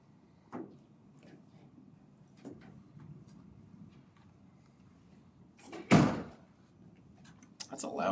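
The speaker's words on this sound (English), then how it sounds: "That's a loud door." A loud door closing in a lecture room lands as one heavy, close slam, preceded by fainter knocks and shuffling over a low room murmur.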